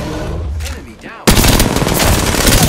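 A Prowler SMG from the video game Apex Legends opens up suddenly after a quieter stretch, firing a loud, continuous rapid burst that fills the rest of the moment.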